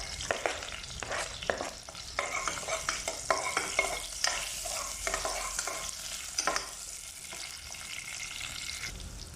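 Ginger sautéing in a little oil while being stirred for chicken tinola, with a crackling sizzle broken by repeated scraping stir strokes, loud and close, no voices.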